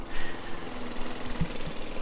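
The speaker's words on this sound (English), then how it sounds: "So just batting down the area with my lawnmower" A lawnmower cuts down grass around a yellow jacket ground nest, its engine a steady close drone with rough knocking and a couple of brief clunks.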